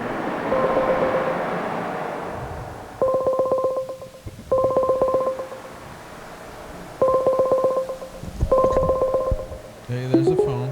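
Telephone dialing tones ring out in four distinct bursts of rapid beeps with pauses between them, loud and close, preceded by a fading hum and followed by a brief electronic sound at the end.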